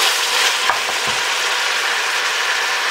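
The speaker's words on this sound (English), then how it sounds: "Now as the bacon starts to cook down" Bacon frying in a pot on high heat, a steady loud hiss and crackle of sizzling fat with a few sharper pops, continuous and close.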